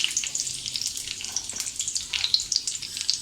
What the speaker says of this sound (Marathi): तेल आपलं तापलं आहे, आपण ही कढीपत्त्याची पानं टाकूया